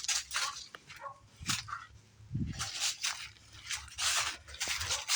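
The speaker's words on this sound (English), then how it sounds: "Samson, good Samson, another neighborhood dog" A neighborhood dog barks near a driveway where body work is being done on a 1989 GMC 2500, giving several short, sharp yips and barks at irregular intervals, faint and somewhat distant, with some whimpering between them.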